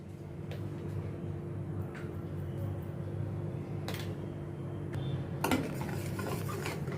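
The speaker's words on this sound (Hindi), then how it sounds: "ये टमाटर को मैं अनियन के साथ मिक्स करती हूँ।" Tomatoes and onions are stirred together in a pan, with occasional soft utensil scrapes and clinks over a constant low hum.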